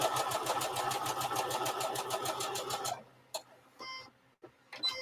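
A sewing machine stitches quilt blocks for a disappearing nine patch and four patch in a fast, even mechanical chatter for about three seconds, then stops, leaving quieter handling sounds.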